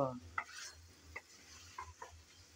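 Cauliflower and potato, fried beforehand, stir-fried in a pan for a cauliflower curry, a faint low sizzle with several sharp spatula knocks against the pan, no one speaking.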